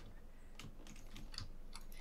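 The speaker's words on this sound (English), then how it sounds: "I have to get one of those silent keyboards." Quiet clicks and taps from a computer keyboard during a Fortnite gaming session come in small irregular bursts, faint and close over a steady low background hum.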